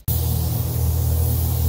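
Black Widow spray gun laying down a base coat: a steady, loud hiss of compressed air and paint that starts abruptly and holds continuously, with a low hum beneath.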